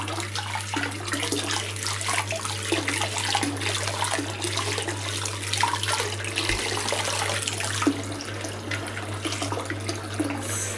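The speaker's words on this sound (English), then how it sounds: "this is not boiling water, this is just hot water from the tap" Hot tap water runs steadily over a Dalek figure being rinsed, a continuous splashing flow with no pauses, close and fairly loud, with a low steady hum underneath.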